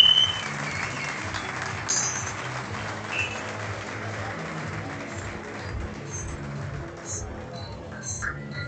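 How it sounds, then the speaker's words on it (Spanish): Audience applause at the closing ceremony of a kayak surf world championship in Argentina, a steady mid-level clapping that runs throughout, with some voices mixed in underneath. "Fuerte aplauso."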